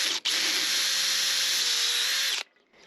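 A power drill whines steadily for about two seconds at close range while drilling into soft metal, loud and continuous, then cuts off abruptly.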